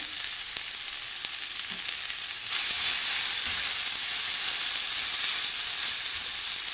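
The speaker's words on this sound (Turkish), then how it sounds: "tavamızın içerisine domateslerimizi boşaltıyoruz. Biraz çeviriyoruz yani ısıttığımız tavamızın içerisinde" Tomatoes tipped into a heated frying pan and turned, a bright hissing sizzle that jumps louder partway through and then holds steady and close, with a few light clicks of the utensil; no voices.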